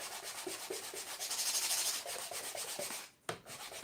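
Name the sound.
sanding miniature beech wood box with sandpaper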